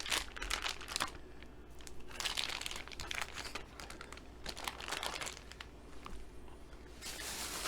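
Plastic bag from a beef eye of round roast handled and set aside, with crinkling and rustling bursts near and fairly loud, no talk.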